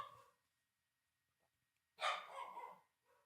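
Dogs barking in a short, close burst of a few loud barks after a near-silent pause, with a faint trailing yelp at the end.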